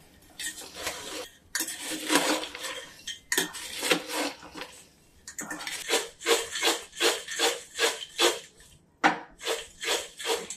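Sabudana chivda being mixed with dry fruits, peanuts and coconut in a metal vessel, a rhythmic series of close scraping, rattling clinks from repeated stirring strokes, loud and alone without any voices.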